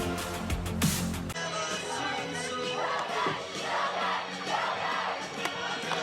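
A softball crowd at the Villanova Softball Complex sings a song together, a broad wash of massed voices heard from a distance, steady throughout with a slightly louder opening.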